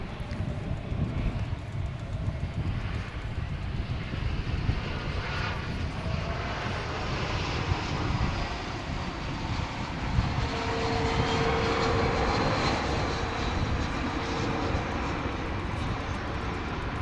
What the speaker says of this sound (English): Was an Airbus A321 arriving from San Antonio